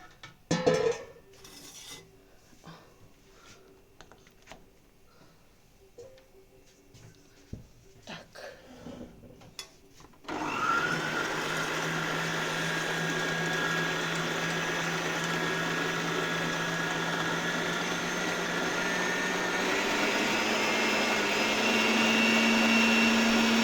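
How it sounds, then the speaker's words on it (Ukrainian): Electric mixer whipping egg whites without sugar for a zebra sponge cake: after about ten seconds of quiet kitchen clatter, a loud, steady whirring drone starts and runs continuously to the end, with a faint shift in pitch late on. "білки ставлю збиватися вперед без цукру"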